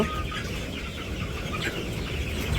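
Chickens cluck continuously inside a village chicken coop, several birds close by with overlapping calls and no one talking.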